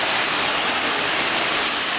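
Water hoses steadily onto a car body panel during an Xzilon coating demonstration, a continuous loud hissing spray with no breaks.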